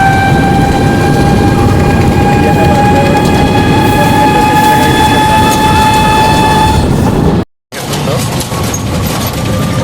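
A Delhi metro train runs on its rails, giving a loud continuous rumble with sustained whining tones close by, which cuts out briefly near the end before the rumble resumes.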